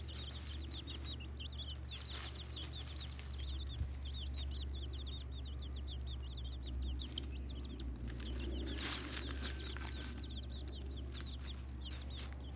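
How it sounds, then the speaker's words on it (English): Two-week-old Leghorn chicks peep in rapid, high, continuous chirps beside their mother hen, who clucks softly and low underneath, over a steady background hum. "And here's a 2 week update on the chicks."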